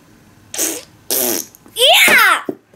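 A child blows a raspberry imitating a fart while playing with toy wild animals such as a skunk, giving two short buzzy bursts followed by a louder, longer sputtering one, close and loud.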